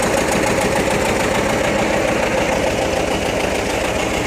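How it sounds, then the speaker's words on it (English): A John Deere 37 sickle bar hay mower with a 7-foot cutting bar, PTO-driven from a tractor, runs with a loud, steady mechanical drone and a rapid clattering knock throughout, with no talking. "we're here today with the Sickle hay mower. This is a John Deere 37."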